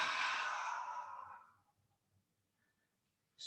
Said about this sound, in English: drop, breathe out.